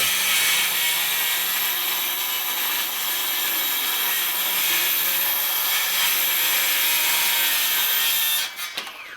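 A DeWalt battery-powered circular saw rips through wood in one long, continuous, loud cut, with the blade spinning down and a few clatters as the cut finishes.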